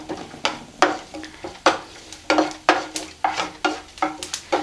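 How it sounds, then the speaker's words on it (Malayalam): Almonds stirred in hot ghee in a pan, a steady sizzle broken by regular scraping strokes of a spoon, close and clear with no talking. "നെയ്യ് ഒന്ന് ചൂടാകുമ്പോൾ ഞാൻ ഇതിലേക്ക് കുറച്ച് ബദാം പരിപ്പ് ചേർത്ത് കൊടുക്കുന്നുണ്ട് എന്നിട്ട് ഇതൊന്ന് നന്നായിട്ട് മൂപ്പിച്ചെടുക്കാം"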